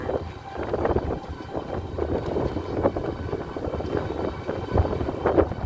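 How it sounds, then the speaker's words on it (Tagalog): Strong wind gusts by the sea at San Benito, Victoria, Laguna, a constant loud rumbling buffet across the microphone with rising and falling surges and no one talking. "ang lakas ng hangin"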